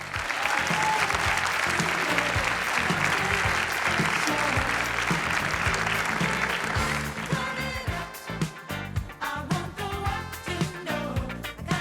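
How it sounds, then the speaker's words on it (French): A crowd at a graduation ceremony applauds steadily and loudly for several seconds, then the clapping thins into scattered individual claps toward the end. "On les applaudit bien fort, s'il vous plaît"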